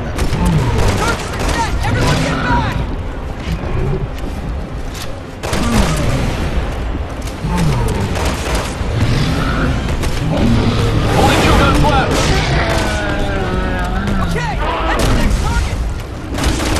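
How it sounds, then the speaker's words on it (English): Loud, dense bursts of gunfire and booming explosions from Resident Evil 6, with rapid crackling shots and heavy impacts filling the whole stretch. "explosion!"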